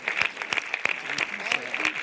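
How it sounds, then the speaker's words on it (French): Scattered hand clapping from the audience at a film festival closing ceremony in Saint-Jean-de-Luz, light and uneven, with a few sharp claps standing out in a thin round of applause. "On peut les applaudir, s'il vous plaît."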